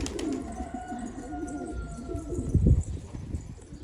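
A crested pigeon coos softly in repeated low notes, close by, with a brief louder flutter or thump partway through.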